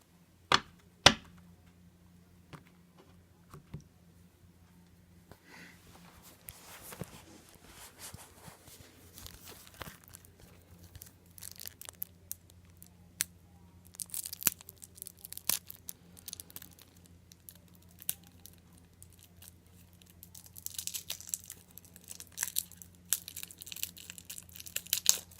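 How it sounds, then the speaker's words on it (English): Wrapped deck of Evolution game cards being opened, with scattered crinkling, tearing and crumpling of plastic wrap in bursts near the microphone, quiet stretches in between and busier handling toward the end. "let's open up the other deck of cards"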